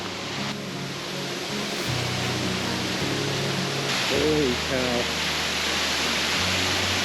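Covell Creek Falls in the Gifford Pinchot National Forest, a broad, constant rush of falling water filling the scene, with voices speaking and exclaiming over it.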